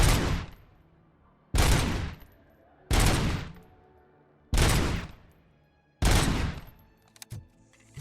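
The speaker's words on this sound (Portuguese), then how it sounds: "eu gosto de atirar nas cabeças" Heavy gunshots in RoboCop: Rogue City, five loud booming blasts about every one and a half seconds, each with a trailing echo, followed by a quick double shot at the end.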